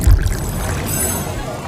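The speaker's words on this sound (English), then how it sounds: "Pouring tea from the long pot has evolved into a beautiful art form of its own" Tea poured from a long-spout pot during a long pot tea ceremony gives a continuous, close, fairly loud rushing stream with a heavy thump at the start and no talking.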